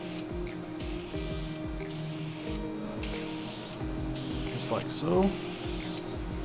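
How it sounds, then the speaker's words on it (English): A spray can mists paint onto plastic lenses in short, repeated hissing bursts as it sweeps back and forth, fairly close, with a few brief spoken words. "when you go to spray, you're going to start at an end and you're just going to work back and forth"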